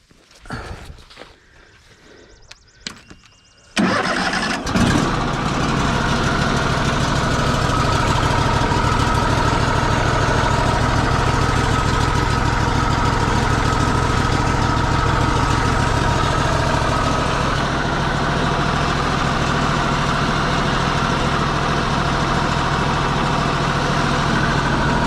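A Woodmizer LT40 sawmill engine cranks, catches near the four-second mark, and then runs loud and steady for the rest of the clip after a few quiet clunks.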